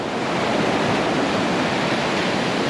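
Sea waves at Weymouth Beach in Dorset make a loud, continuous rushing wash of surf, close and unbroken for a few seconds with no voices.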